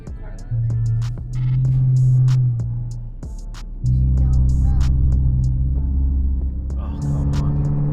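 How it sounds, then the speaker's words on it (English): A car engine fitted with straight pipe exhaust rumbles and throbs at idle, with deep steady drones that rise in two stepped revs, broken by brief clicks and knocks. "Did you get the straight pipes on it?"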